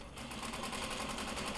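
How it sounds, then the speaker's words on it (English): A sewing machine runs steadily as it stitches along a side seam of a garment, a continuous close whirring hum with no talking. "We just get to sew this side."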